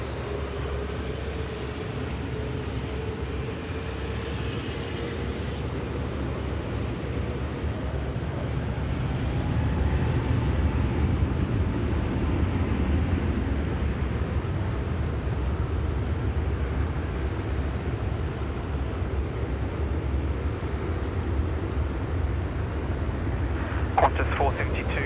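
A Qantas airliner takes off from runway 16 right at Sydney Airport, a distant, steady low jet roar that swells midway and holds for the rest of the stretch.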